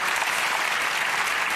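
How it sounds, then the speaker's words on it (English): Steady, dense applause from a ceremony audience at the LUX Audience Award event, a brief continuous burst of many hands clapping. "So we're giving one big of applause for our partners,"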